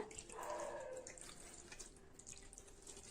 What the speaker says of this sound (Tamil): ஒரு 1/2 டம்ளர் மட்டும் தண்ணி தெளிச்சு விட்டுருக்கேன்.